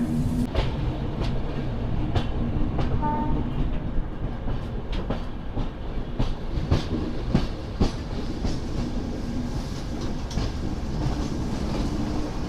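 The Godavari SF Express rolls out of the station with a continuous loud rumble and rhythmic clickety-clack of wheels over rail joints, heard from inside a carriage.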